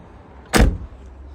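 The passenger door of an Autosleeper Trophy motorhome opens with a single sharp, close clunk and a short rattle that quickly fades.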